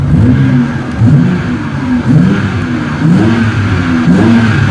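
A BMW engine set to race mode revs repeatedly, loud and close, with rising and falling mid-pitched engine tones in a steady rhythm of throttle blips and no speech.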